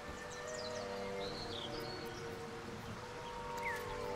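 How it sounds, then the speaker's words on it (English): Steady rain in Baldur's Gate 3, a continuous even hiss of falling water with scattered bird chirps over it, with no talking. "It's raining, by the way, y'all."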